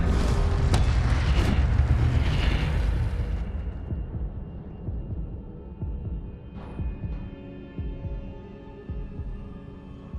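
An Incendio fire spell bursts in Hogwarts Legacy, opening with a loud, booming blast and roar of flame that fades over several seconds into a softer crackling rumble with a few faint pops, no voices present.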